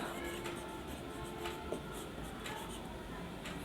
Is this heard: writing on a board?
yes